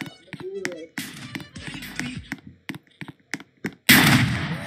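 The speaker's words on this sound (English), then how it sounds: "Ooh, I just sniped him." Sniper gunshots ring out in a Roblox shooting game, several sharp separate cracks spread across a few seconds, with a louder burst near the end.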